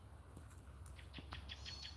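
Faint bird calls chirp in a quick series of short, high notes over a quiet outdoor hiss, distant and soft.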